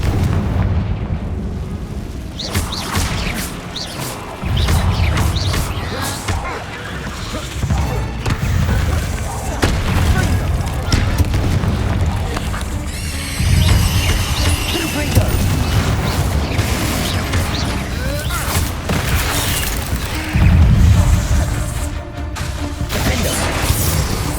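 Repeated Confringo blasting spells erupt in the Hogwarts Legacy video game, making a run of heavy booms and crashing bursts over dense battle noise, with occasional voices.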